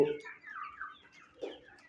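Several desi chickens cluck in a quick run of short, close calls, with a louder burst near the end.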